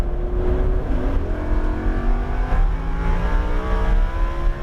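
A Lamborghini Huracan LP 610-4 accelerates on the Raceway Park of the Midlands circuit, its engine droning loud and close with a steadily rising, layered pitch and no voices over it.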